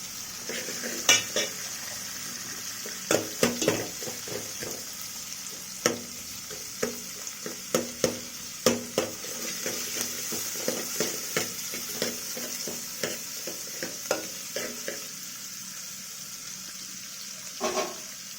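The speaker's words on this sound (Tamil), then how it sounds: "வெங்காயம் கொஞ்சம் நல்லா வதங்கட்டும்" Onions sautéing in hot oil for a spicy mutton boti dish: a steady sizzle runs throughout, broken by frequent clinks and scrapes of a spatula stirring in the pan, fairly close, with no talk.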